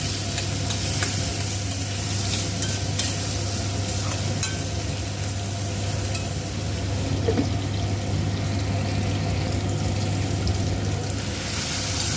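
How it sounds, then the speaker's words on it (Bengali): Potatoes stir-fried in a pan with onion, ginger paste, cumin paste, salt and turmeric for a potato and bottle gourd leaf curry, giving a steady, close sizzle and scraping stir that runs without a break and without talk. "আলু কষা হয়ে গেছে"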